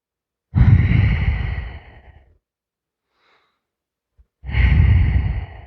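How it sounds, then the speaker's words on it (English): Two long, deep breaths during a strengthening workout's breathing exercise, each a loud, close airy exhale lasting over a second, separated by near silence with a tiny intake sound. "Inhale and exhale. Inhale, exhale."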